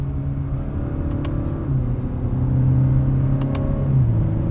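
A 2019 Acura RDX A-Spec with a 10-speed automatic accelerating, heard from inside the cabin: a steady engine drone with rising pitch that drops sharply at each quick upshift, and two closely spaced shifts.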